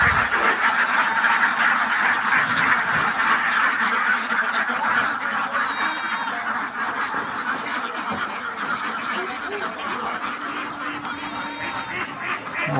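Chinese ducklings and grown ducks quack together in a thick, unbroken chorus, loud and near, with higher peeping calls rising now and then over the steady din.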